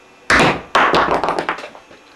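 A homemade coil gun fires a half-inch bolt into a ceiling, giving two sharp, loud thunks followed by a quick series of smaller clattering taps that trail off.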